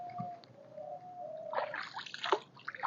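Clean water released from a storage reservoir for farm irrigation flows steadily in an outdoor rural setting, a soft continuous rush with brief louder splashy surges partway through, and no one talking.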